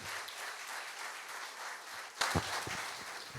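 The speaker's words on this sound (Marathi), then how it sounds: "याच्यासाठी जोरदार एकदा टाळ्या वाजवून आपण सारखं ठरवलं." An audience applauds at a Marathi talk event. Scattered, fairly faint clapping keeps up throughout and gets a sharper, louder burst of claps partway through.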